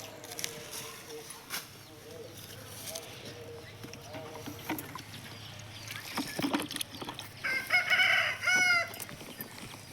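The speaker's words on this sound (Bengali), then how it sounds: "আমাদের গ্রামে হচ্ছে শুধু সারাক্ষণ মোরগের ডাক আর এই মোরগ দুটো আমারই" A rooster crows nearby, loud and drawn out near the end, over soft background noise and talking voices.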